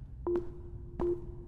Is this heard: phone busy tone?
yes